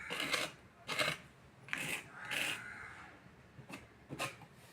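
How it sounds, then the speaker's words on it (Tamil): Kolam rangoli powder is spread by hand over a stencil, giving faint, soft rasping and rubbing strokes in irregular bursts, about six brushes in under five seconds, with no talking. "கொட்டிக்கிட்டு நம்ம இப்படி ஸ்ப்ரெட் பண்ணிக்கலாம்."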